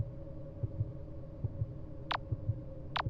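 Heartbeat effect from the horror dating game Sucker for Love: a Date to Die For, a soft, low, steady double thump repeating about every 0.8 seconds under a faint hum, with two brief sharp clicks near the end.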